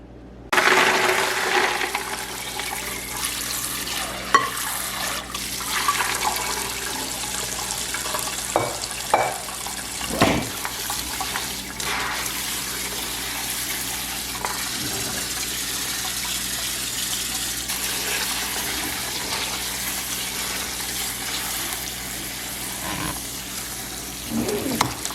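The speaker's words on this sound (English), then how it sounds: "Now we're going to dump them into the strainer and rinse the beans." Soaked mixed beans rinsed in a strainer under running water, a steady close gushing and splashing that carries on for about twenty-five seconds with a few louder clattering surges.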